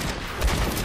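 Bastion's turret in Overwatch fires a dense, continuous burst of rapid gunfire, loud and close, lasting under a second.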